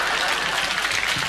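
An audience claps in a dense, even burst of applause lasting a little over a second, broad and steady with no voices rising above it.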